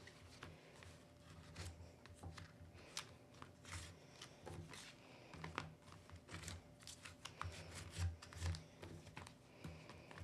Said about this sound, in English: I'm going to go ahead and reinforce the crease with the scissors